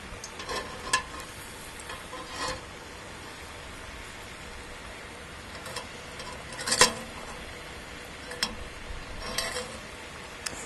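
Steady low sizzle of food deep frying in peanut oil in a cast iron Dutch oven, with scattered light pops and ticks over a constant bubbling hiss.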